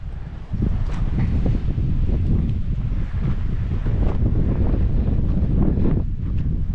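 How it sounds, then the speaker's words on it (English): Steady, loud wind buffeting the microphone on a hiking trail at San Tan Mountain Regional Park in Arizona's Sonoran Desert, with a constant roar and gusty rumbles throughout, no voices. "It's very windy"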